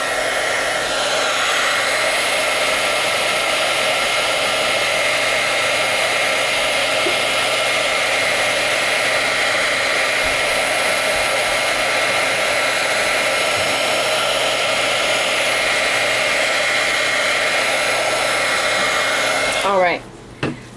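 An embossing heat tool blows with a loud, steady whooshing roar for around twenty seconds, then cuts off abruptly.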